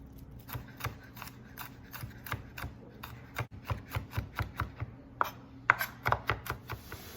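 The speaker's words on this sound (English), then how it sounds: "we're going to chop 2 large cloves of garlic" Large garlic cloves chopped with a knife on a cutting board, a steady run of close, crisp taps that quicken toward the end.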